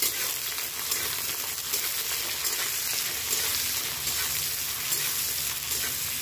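Chopped onion and green chili fry in a pan with a dense, continuous sizzle that stays close and even throughout, with faint stirring under it.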